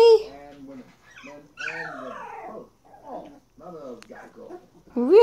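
A litter of young lurcher puppies piled together on a ranch, whimpering and yelping in short high-pitched bursts with pauses, close and fairly loud, mixed with squeaky vocal sounds.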